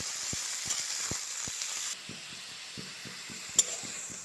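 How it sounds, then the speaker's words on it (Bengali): Potatoes fry in oil for a potato and pea curry. A continuous close hiss of sizzling oil runs throughout with soft bubbling, a few light knocks and one sharp clink near the end. "সব আলুগুলো দিয়ে দেব আর বেশ লাল লাল করে আলুগুলোকে ভেজে নেব"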